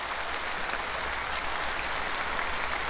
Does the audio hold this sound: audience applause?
yes